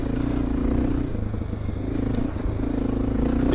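A Honda XR650L motorcycle ridden on a packed dirt trail with rocks and bumps, its engine droning steadily up close with a rattling clatter over the rough ground.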